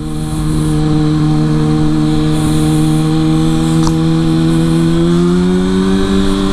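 A Kawasaki Ninja ZX6R motorcycle engine drones loud and steady through a test ride, holding a constant tone that rises slightly near the end, with wind noise and no talking.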